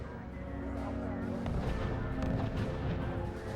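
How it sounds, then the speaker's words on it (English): Artillery batteries firing from several positions in the WWII strategy game R.U.S.E., a steady wash of distant booms and rumbling blasts layered under continuous battle noise, with a sharper report at the very end. "from behind we've got artillery shooting from different positions"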